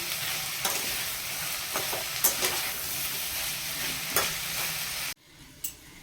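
Chillies and peas fry with a continuous loud sizzle while a utensil stirs and scrapes; the hiss drops away abruptly near the end, leaving a quiet clink.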